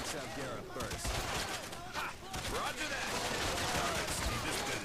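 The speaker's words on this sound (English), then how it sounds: "There's people shooting at us." Dense, continuous gunfire and explosions from the arcade shooter game Time Crisis: Razing Storm, a loud, busy battle mix with overlapping bursts and voices heard through the game audio.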